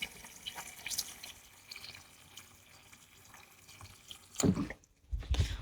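Water runs and drips from a tap into a sink while dishes are washed, a soft trickle with scattered splashes and clatter, with a few louder bursts near the end.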